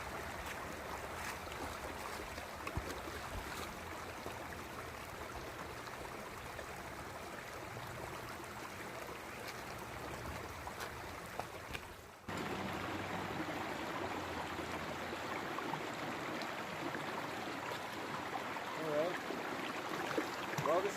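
Cold Creek, a flowing river at a gold sluicing spot, gives a steady broadband rush of water that stays continuous throughout, with a brief handling bump midway before the flow resumes slightly louder.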